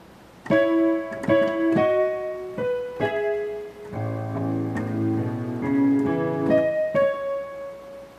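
Low-register left-hand piano notes played one after another, some ringing and overlapping, forming a steady accompaniment figure for a song with a moderately loud, close tone.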